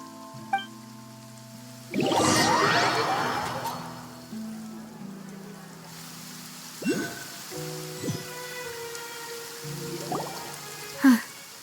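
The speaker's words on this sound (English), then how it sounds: "It's been raining non-stop for a few days now." Steady rain in the Genshin Impact game world hisses in a broad wash that swells for a couple of seconds and then thins, followed by scattered drips and soft splashes over faint background music.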